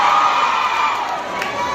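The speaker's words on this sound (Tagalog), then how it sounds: "Maririnig ba yung sigaw natin ng Ilocos?" A large crowd at a rally in Ilocos cheers and shouts loudly and continuously, a dense roar of many voices held throughout with a brief swell of louder yells near the end.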